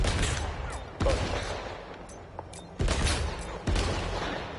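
Gunfire in the video game 007 First Light during a firefight with a sniper: four sharp, loud shots spaced irregularly, each with a booming echoing tail, a couple of faint distant pops between them, and no talk.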